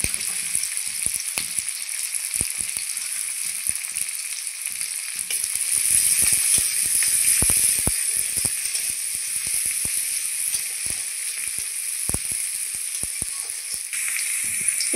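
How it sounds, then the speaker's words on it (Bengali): Chopped onion and green chilli fry in oil in a pan, making a steady, close sizzle throughout with scattered clicks and scrapes from stirring; no one speaks. "পেঁয়াজ লঙ্কা ভালো করে ভেজে নিয়েছি।"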